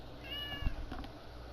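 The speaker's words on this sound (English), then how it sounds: "My cat scared the bejeebers out of me." A pet cat gives a single short, quiet meow, close by and on its own against low room noise during a session of Genshin Impact.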